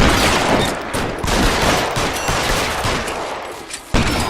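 Video game gunfire in L.A. Noire, a shootout with cover behind thin filing cabinets: loud, rapid volleys of shots crackle continuously with brief lulls, ending in a sharp burst.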